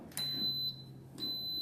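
An Instant Pot heating to high sends out two short, high electronic beeps about a second apart, faint and clear over quiet room hum.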